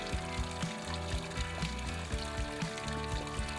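Water from a small waterfall pours steadily into a bottle, a close gurgling fill with a faint background rush, continuous throughout.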